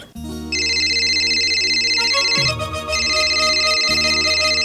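A loud electronic mobile phone ringtone plays a repeating melodic pattern, bright and continuous, with brief dips in the tune partway through.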